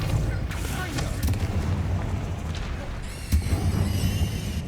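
A Depulso force spell is cast in the Hogwarts Legacy video game, producing a deep booming blast with a sharp burst near the end over continuous rumbling combat noise.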